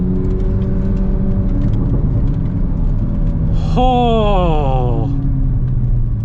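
A 2024 Chevrolet Corvette Z06 engine in sport mode drones steadily inside the cabin, then surges into one loud rev that climbs and settles back to a rumble. A person's brief exclamation is heard.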